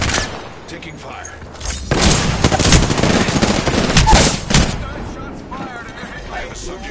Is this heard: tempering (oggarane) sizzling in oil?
no